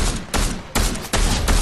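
M16 gunfire in the Fortnite video game rings out in three loud, sustained bursts of rapid shots, separated by brief gaps, close and harsh with no talk over it.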